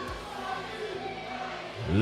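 Dense, indistinct crowd roar fills an indoor boxing arena during a fight, a constant murmuring din with no clear individual voices.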